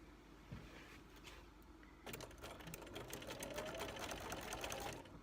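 Sewing machine stitching quilt block seams with nested seams, its steady mechanical whir running continuously and growing louder after a brief quieter start, close by with no talking.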